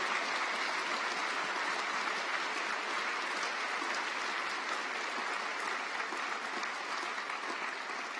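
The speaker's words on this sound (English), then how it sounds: "Please may we offer them a round of applause." Sustained applause from a graduation ceremony audience for a student a cappella ensemble, steady and dense throughout, with no talking over it.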